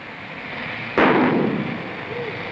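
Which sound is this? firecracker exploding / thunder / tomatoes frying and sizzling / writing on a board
firecracker exploding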